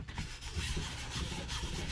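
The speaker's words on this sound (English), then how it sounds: "I'm gonna rub over it with my hands just to kind of rub it in really well" Bare hands steadily rub a green finish into a wooden surface, making a faint, continuous dry swishing close by with no other sounds.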